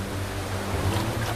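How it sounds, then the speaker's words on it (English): Gushing waterfall on a river in the Great Bear Rainforest, a steady broadband roar of rushing water, moderately loud and continuous with no voices. "The gushing waterfall further upstream seems insurmountable."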